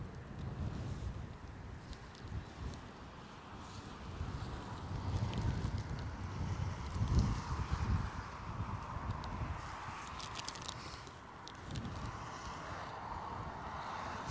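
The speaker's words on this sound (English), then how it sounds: "The wind has sort of moved its way round to a northerly" A gusty northerly wind sweeps across Newcastle Airport on a wild, snowy day, a steady low roar and rumble buffeting the microphone, swelling and easing without a break and with no voices.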